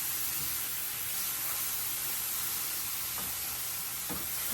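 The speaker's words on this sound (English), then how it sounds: "really just want to mix all the stuff together, all the salt, pepper, and garlic, and just get it kind of all incorporated into the noodles" Noodles being stirred in a hot pan with salt, pepper and garlic, a steady broad sizzle throughout with faint scraping stirs, no talking.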